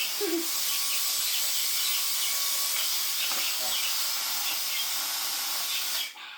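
A Dyson DC35 cordless vacuum cleaner running continuously on a rug, a steady loud high-pitched whirring hiss that holds for several seconds and then cuts off abruptly at the end.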